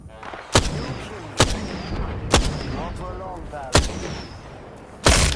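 Video game gunfire: five sharp, loud single shots spaced about a second apart, each cutting through a busy background of game effects and chatter.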